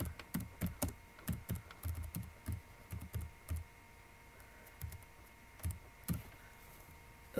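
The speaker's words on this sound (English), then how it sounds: "But what we want to do is we want to type in" Typing on a computer keyboard, with bursts of quick, close key clicks that pause and resume in short runs and a few louder single taps, no voices.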